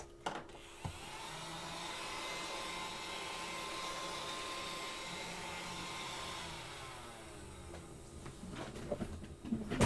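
A vacuum cleaner runs steadily and fairly loud for most of the stretch, its whine then winding down near the end, used while working with alcohol inks and gilding flakes.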